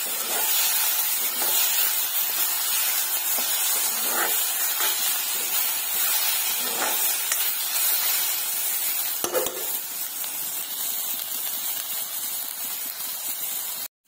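Spices sizzle steadily in hot oil with turmeric and salt, a continuous close frying hiss broken by occasional stirring scrapes of a spoon in the pan.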